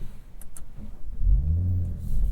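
A 2024 Audi S4 engine starts and settles into a steady idle, rising from quiet into a loud, close low rumble that holds to the end, with no talking.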